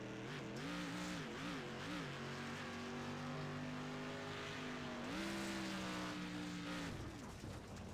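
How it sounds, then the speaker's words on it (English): A dirt street stock race car at Knoxville in the iRacing sim sounds loud and continuous, its engine note swooping up and down, then dropping in pitch with downshifts partway through and again near the end. "I just wonder why he's actually downshifting."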